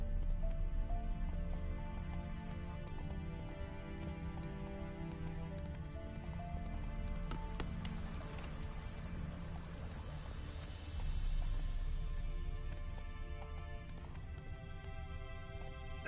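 Roach, the horse in The Witcher 3, galloping with a continuous rapid clip-clop of hooves, fairly faint and steady throughout, over low ambient game rumble.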